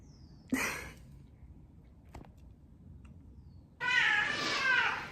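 A cat meows twice, a short cry and then a longer drawn-out one, close by in an otherwise quiet room.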